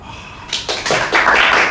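A small audience at a talk breaks into applause, a few sharp claps at first that quickly build into a close, loud burst of clapping.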